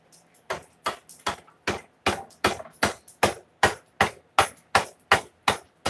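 A hammer repeatedly strikes a steel Bowie knife clamped in a vise, about twenty sharp ringing blows at a steady, slightly quickening rhythm, close and clear with no talk.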